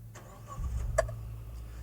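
A petrol engine in a 2018 Suzuki Mega Carry 1.5 pickup cranks and catches with a short burst, then settles into a quiet, low idle.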